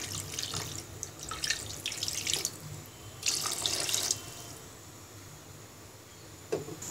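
Water pours into a pan of Bangladeshi hilsa (elish) fish and eggplant, splashing in two or three short bursts with quiet gaps between, plus one small splash near the end, heard close and with nobody speaking.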